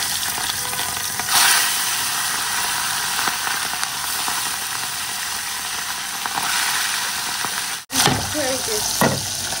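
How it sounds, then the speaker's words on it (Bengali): Puti fish frying in a pan, a loud continuous sizzling hiss that holds steady throughout, with one brief sharp cutout near the end and faint knocks of a utensil. "এখানে রানী ভাবি না পুঁটি মাছ মাখা দিচ্ছে আর কি, তো এগুলোও ভাজবো। পুঁটি মাছগুলো দিয়ে দেবো বাবা।"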